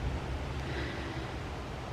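Water flushed from an opened water main rushes through a yard as a steady broadband roar, continuous and fairly close, with no voices.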